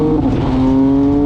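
A 2020 MV Agusta Brutale 800RC motorcycle engine drops down into second on back roads, its loud, close exhaust note dipping in pitch at the shift, then settling into a steady, strong drone.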